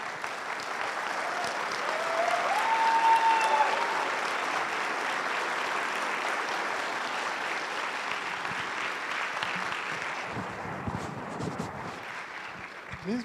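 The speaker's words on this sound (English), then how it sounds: "Please, a round of applause for ourselves in a standing ovation" An audience at the Kenya Space Expo closing ceremony rises in a standing ovation, sustained broad applause filling the hall for about ten seconds before thinning out toward the end.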